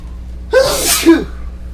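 A single close, sharp sneeze with a breathy two-part burst, over a low steady hum.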